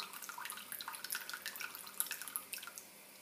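Esbit coffee maker coming to the boil as coffee comes through, with quiet irregular gurgling, bubbling and dripping close up, alone and fairly faint.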